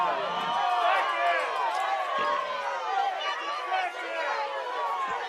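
Large outdoor crowd at a college football game between Ripon and Illinois College, a continuous roar of many voices with shouting, loud and sustained, with no clear cheering peaks.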